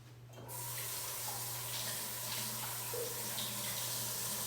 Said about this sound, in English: And now I'm gonna go wash my hands.